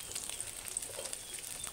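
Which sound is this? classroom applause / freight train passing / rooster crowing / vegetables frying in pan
vegetables frying in pan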